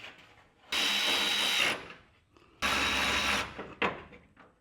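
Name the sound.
cutting a truck fender bolt with a power tool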